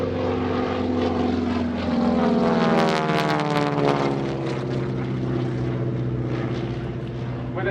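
A restored airshow airplane powered by a 600 horsepower Pratt & Whitney radial engine flies past, its loud propeller drone swelling and shifting in pitch as it passes, with an announcer talking over it.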